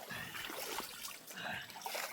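Water splashes and trickles steadily as hands and feet are washed outdoors in a Konkan village near Vaibhavwadi, with stream water flowing from the Sahyadri hills; a continuous close wash of splashing.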